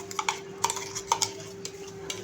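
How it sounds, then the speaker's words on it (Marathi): A spoon clinks and scrapes against a pan as a ground paste of coconut, onion, coriander and sesame is sautéed in oil, giving a few quick, close taps over a faint background hum. "हा मसाला आपण छान असा परतून घ्यायचा तेलावरती"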